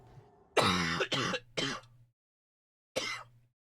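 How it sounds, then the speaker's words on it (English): A person coughs in a short fit of three harsh, close coughs in quick succession, then a pause before one more cough. "That means a coughing fit."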